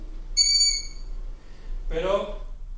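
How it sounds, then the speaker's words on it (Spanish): Nocturnal owl call recorded in the wild: one clear, tonal hoot up close, followed a moment later by a short, harsh, noisy burst, with nearly silent night air between them. "un catálogo sonoro de los sonidos de las aves nocturnas"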